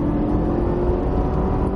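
Cadillac CTS-V engine running at full power down a track straight, a steady loud droning roar with a sustained whirring tone, heard from the cabin.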